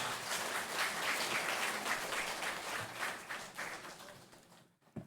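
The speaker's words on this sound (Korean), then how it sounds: "우리 박수로 크게 환영하겠습니다" A church congregation at a Sunday afternoon service claps together to welcome a speaker, a dense, steady applause lasting about four seconds before fading out, with no talking.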